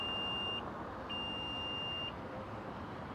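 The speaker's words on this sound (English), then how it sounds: "you hold this button down and you listen for the beeps" Two clean electronic beeps sound from a 2024 Infiniti QX60 Autograph while its power liftgate height is set, a short tone followed by a longer held one, high and clear over faint background hum.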